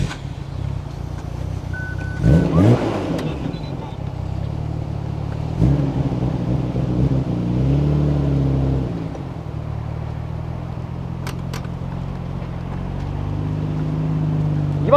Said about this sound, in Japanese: じゃあ次はですね、マフラーサウンド、はい、いきますかね